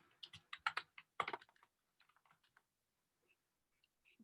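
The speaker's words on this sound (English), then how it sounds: "I'm gonna type it in." Keystrokes on a computer keyboard as a price is entered into a Python web application: a quick burst of clustered clicks at the start, then sparser, fainter taps trailing off into near silence.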